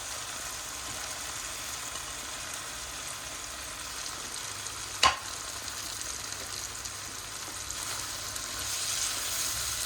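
Pieces of taro root and capsicum fry in hot oil with a steady, fine sizzle throughout, broken by one sharp clack near the middle.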